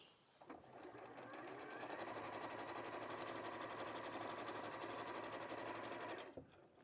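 A sewing machine stitching along fabric runs in a fast, even whirr for about six seconds, starting and stopping cleanly, quiet and close.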